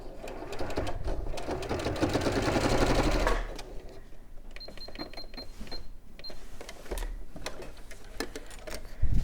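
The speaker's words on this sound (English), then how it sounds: "we'll just sew that to secure this into place" A home sewing machine stitching a fabric panel, a steady whirring run up close that stops after a few seconds, followed by quieter handling clicks and rustles.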